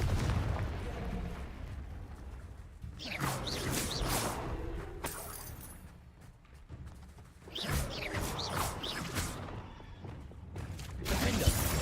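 Fiery Confringo spell blasts in the Hogwarts Legacy video game, a series of booming bursts with whooshes and crackling debris, loud and repeated across the clip.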